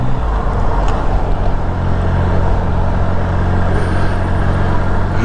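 Heavy road traffic with motorcycles lane splitting, a dense continuous roar of engines and tyres close by, loud and steady with no clear gaps.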